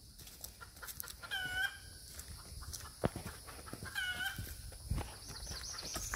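Broody hen clucking softly in a coop with bantam eggs, a few drawn-out murmuring calls and scattered taps amid low background noise, fairly faint.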